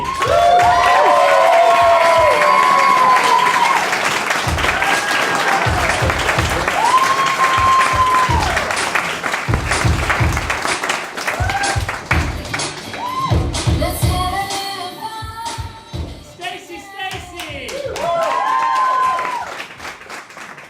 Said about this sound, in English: please put a big round of applause, put your hands together